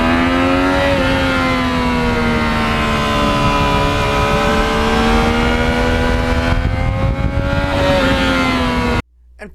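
A Yamaha MT-09 motorcycle engine revs hard and loud, close by, its pitch climbing and holding in a steady snarl for several seconds before cutting off abruptly.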